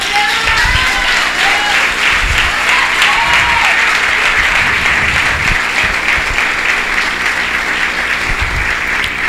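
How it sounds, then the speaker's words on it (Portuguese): A church congregation claps steadily and loudly for several seconds during a service, a dense continuous wash of applause with faint voices mixed in. "Você pode bater palmas para o Senhor?"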